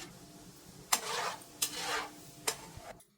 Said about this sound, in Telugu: ముందు జీడిపప్పుని లైట్గా వేయించుకోండి